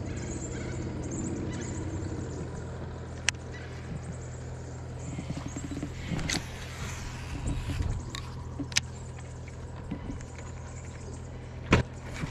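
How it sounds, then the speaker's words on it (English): A pump runs in the background at a riverside camp on a Murray cod fishing trip: a faint, steady low hum continues throughout, with a few sharp clicks and light knocks nearby. "probably hear the pump in the background"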